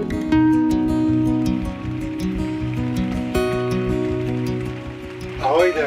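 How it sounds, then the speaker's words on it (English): Rain drums steadily on the roof of a small cabin on wheels, a dense close patter with sharper individual drops, while a steady hum sits underneath and brief background sounds rise at the end. "What you hear is the rain on our little cabin on the wheels."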